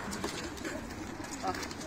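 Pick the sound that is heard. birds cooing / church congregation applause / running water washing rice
birds cooing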